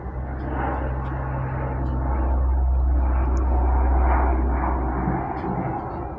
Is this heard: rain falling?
no